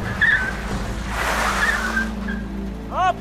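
A car brakes sharply and its tires skid in front of a girl, a short scraping squeal over a low engine rumble, followed by a rising screech near the end.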